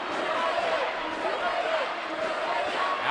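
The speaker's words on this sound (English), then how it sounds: "Crowd getting into it." A crowd roars steadily through the final minute of a tied USA vs Serbia men's water polo exhibition match, the broad cheering sustained throughout beneath a commentator's voice.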